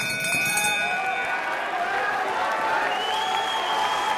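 A boxing crowd in Liverpool claps and cheers near the end of round seven in a broad, continuous wash of noise, with a voice faintly audible beneath it.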